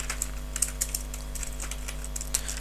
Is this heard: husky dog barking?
no